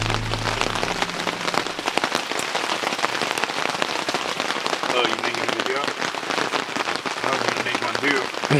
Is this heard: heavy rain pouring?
yes